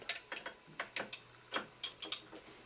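A hand ratchet clicks in quick uneven bursts, close and crisp, as it tightens the bolts of a DDM Dominator V2 exhaust pipe.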